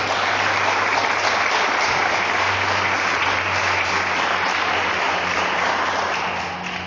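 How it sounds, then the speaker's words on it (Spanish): A church congregation gives the Lord a loud round of applause, a dense, steady wash of clapping that fills the room for several seconds and fades slightly at the end. "Y dan un fuerte aplauso al Señor."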